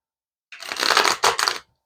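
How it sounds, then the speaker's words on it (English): Tarot cards being shuffled, a close, crisp riffling burst lasting about a second, a short pause, then a second quicker riffle, alone without talk. "I keep shuffling the cards backwards"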